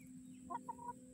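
A young rooster among a small backyard flock of chickens gives a few brief, soft clucking calls against quiet farmyard background hum.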